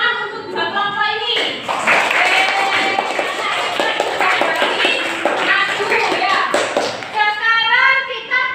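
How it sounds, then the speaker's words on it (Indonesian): A classroom of students applauds two student groups with dense, loud clapping, mixed with cheering voices and shuffling, lasting several seconds before fading into talk. "Tepuk tangan untuk dua kelompok ini."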